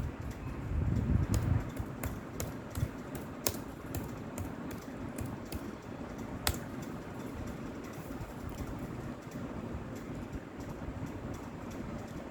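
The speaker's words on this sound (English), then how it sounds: "Simply go to the Google and type Google Forms there." Fingers type on a computer keyboard, a string of quick clicking keystrokes in uneven bursts, close by, over a steady low background rumble, with no speech.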